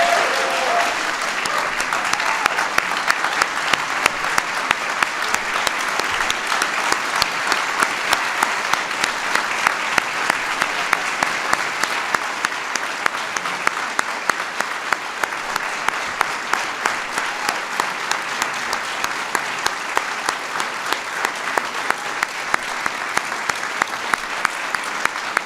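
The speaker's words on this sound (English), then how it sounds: "Let's give them a big round of applause." Sustained audience applause for the 2015 Presidential Medal of Freedom recipients at a White House ceremony, a dense, steady roar of many hands clapping for about twenty-five seconds without speech.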